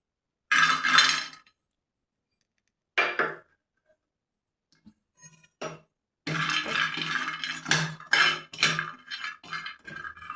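Dry fruits for karjikai being stirred and warmed in a frying pan: close, sharp clinks and scrapes of a utensil against the pan, in a few short bursts and then a busier run of rapid clinking.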